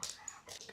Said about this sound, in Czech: když uslyšíte takový ťupkání třeba maličkatý, tak to je můj pes